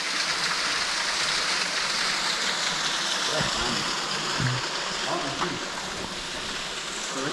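Creek water rushing at Dutch Creek Falls in Coloma, California, a dense, constant broadband roar close by, with voices of people talking faintly beneath it.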